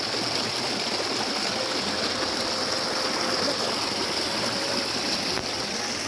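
Rainwater flows steadily through a previously dry canal in a residential area after continuous rain, a constant rushing, trickling wash close by with no pauses.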